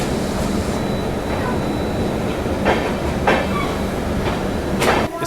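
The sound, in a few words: Shatabdi Express train arriving at Bina Junction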